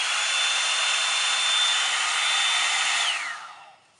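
A Revlon One Step hair dryer running on its high setting gives a loud, steady whirring blow close to the mic with a whining tone, then spins down and fades out over the last second.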